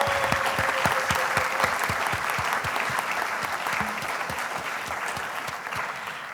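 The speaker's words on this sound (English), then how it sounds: "So I'd like to just give a quick thanks or clap to My Talk for supporting us today." An audience at a conservation event claps steadily for several seconds, a dense and even round of applause that holds its level throughout, with no one speaking over it.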